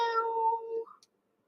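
A cat named M3 gives one drawn-out meow close by, clear and tonal, ending with a short upward chirp before silence.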